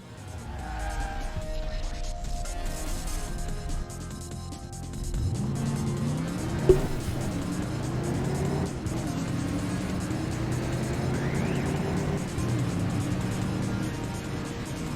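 A car in the video game Crash Time 3 starts up and accelerates, its engine rising through the gears with brief tire squeal and a steady, loud drone that carries on to the end.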